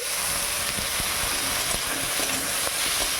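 Tomatoes drop into okra already frying in a pan, a dense, even sizzle with sharp crackles and pops scattered across it, close and loud, with no talking.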